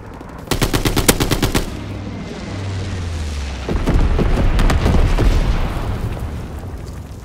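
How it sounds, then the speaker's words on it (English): Call of Duty WWII match with rapid bursts of automatic gunfire, then a heavy rumbling incendiary bomber strike that rolls on loudly with more scattered shots. "Altitude bomber inbound. Dropping incendiary."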